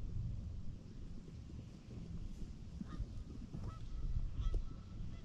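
Geese honk repeatedly at a distance over an open field during an early-season goose hunt, their calls scattered and overlapping against a low rumble of wind noise.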